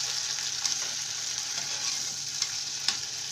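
Potatoes fry in melted butter with a close, steady crackling sizzle, broken by a few sharper pops and stirring clicks, with no voices over it.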